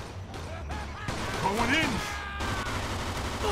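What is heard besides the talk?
gunfire headshots in Mafia 2 video game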